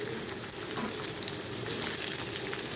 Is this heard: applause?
no